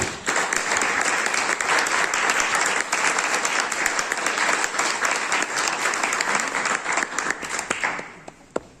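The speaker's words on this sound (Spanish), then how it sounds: "Un aplauso." An audience breaks into loud, sustained applause, dense clapping that holds steady for several seconds before fading at the end, with no voices over it.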